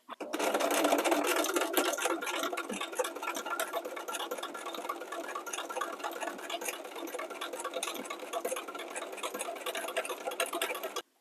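A sewing machine stitches a zigzag seam on a fabric castor oil pack, its rapid, steady mechanical whirr and ticking needle rhythm running continuously and close, loudest in the first seconds.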